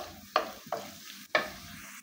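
Chopped onion, green chillies and bay leaves fry lightly in a pan under a low sizzle, with three distinct stirring scrapes at spaced intervals.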